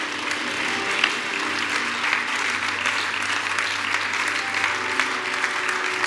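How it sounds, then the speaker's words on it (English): A church congregation claps hands steadily and loudly throughout, a dense, continuous wash of applause with faint voices mixed in. "clap hands for them as they come"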